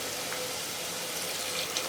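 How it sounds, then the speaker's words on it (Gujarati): Water is poured from a glass into a spiced chole masala gravy, making a steady, even rush of liquid that runs unbroken for the whole two seconds with no talk over it. "તેમાં 1 ગ્લાસ પાણી ઉમેરી દેવાનું."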